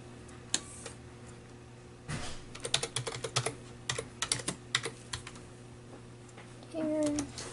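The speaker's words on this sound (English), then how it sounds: "we'll type in the animal's name" Keys clatter on a computer keyboard at a veterinary clinic front desk as a pet's details are entered, short irregular bursts of close taps with a brief electronic beep near the end.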